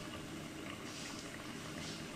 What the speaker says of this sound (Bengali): শাকের ঝোলগুলো ফুটে উঠছে